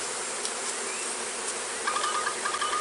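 Honey bees fill a mating box with a dense, steady, close buzz, with a few sharper, higher whines near the end.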